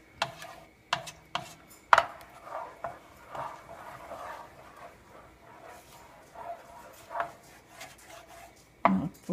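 A knife cuts butter while a croquette recipe is cooked, heard as a series of sharp, near chopping knocks and taps. They are irregularly spaced and fairly quiet, with softer clatter between them.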